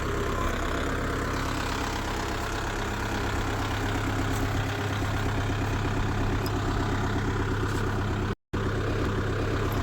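A Kubota tractor's steady, low engine idles continuously at close range, a constant rumbling drone with no voices, briefly cutting out for an instant near the end.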